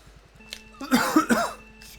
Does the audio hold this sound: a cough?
yes